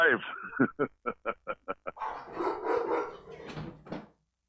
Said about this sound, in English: You hear these dogs?